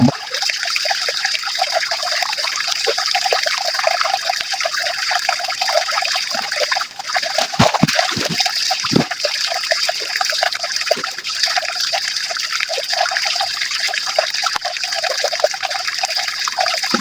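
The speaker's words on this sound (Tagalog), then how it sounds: "Ayan, tingnan nyo yung aming pinagagalingan ng aming tubig." Water trickles and splashes steadily and loudly from a household water source, a continuous close bright flow with brief gurgling spurts partway through.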